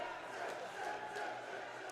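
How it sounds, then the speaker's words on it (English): Crowd at a high school boys hockey game in an arena, parents cheering and celebrating, a broad roar of voices and shouts, fairly distant and sustained without a clear break. "South Shanley parents are celebrating."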